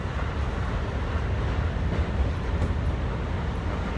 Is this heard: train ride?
yes